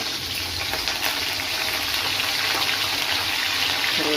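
Garlic, green chillies and curry leaves frying in a pan of hot oil for a sankara fish curry, giving a steady, loud, broadband sizzle that hisses continuously throughout.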